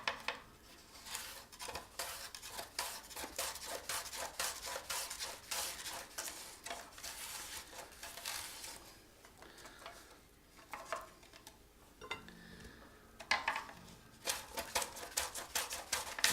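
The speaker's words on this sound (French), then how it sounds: "Je vais prendre ma mandoline. Et je vais émincer mes asperges." Fresh asparagus spears are sliced thin on a kitchen mandoline, giving a quick, faint run of crisp scraping cuts in uneven bursts with short pauses between them.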